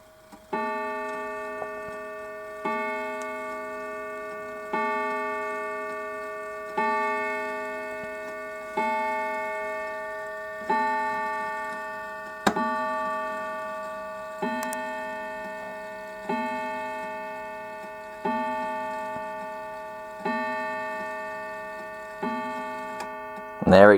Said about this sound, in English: At 12 o'clock you'll hear 12 strikes and it'll drop in.